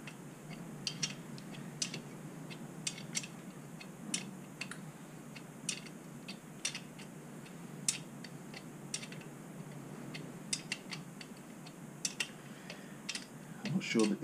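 Spanner work on the rocker box bolts of a BSA Rocket Three A75V during top-end reassembly: quiet, intermittent metallic clicks and ticks scattered throughout, close by and faint, with no talking.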